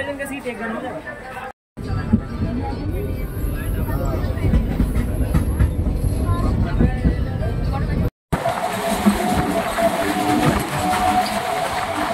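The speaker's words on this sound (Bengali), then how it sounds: "আপনারা দেখতে পাচ্ছেন এখন ট্রেন চলে এসছে।" A train rumbles steadily along the tracks, with a loud continuous mechanical roar and voices chattering beneath it.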